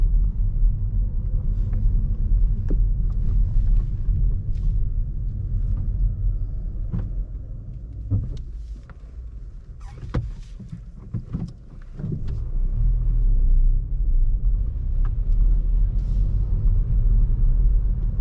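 Car engine on a driving test during fumbled gear changes, a steady low rumble from inside the car that dips and rises again, with faint clicks and knocks over it and no speech.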